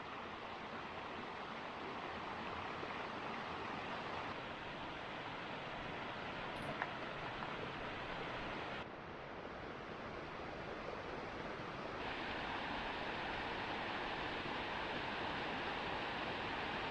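Big Toonie Creek rushing steadily along a forested Nantahala trail in North Carolina, a broad, continuous close water roar with no voices.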